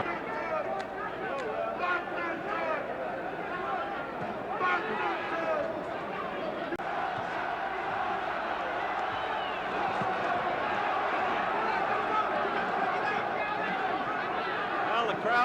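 Spectators at a Muhammad Ali boxing fight cheer and murmur in a continuous, loud crowd roar late in the bout, with chatter and bursts of laughter mixed in.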